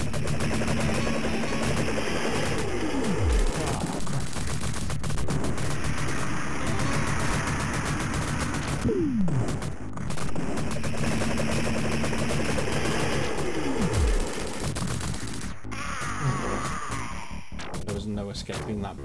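Gunfire barrage in the 1988 TAD Corp arcade game Cabal: rapid, continuous machine-gun chatter with falling-pitch whistles of incoming shells and explosions, loud and busy over looping game music, with occasional voice-like sounds mixed in.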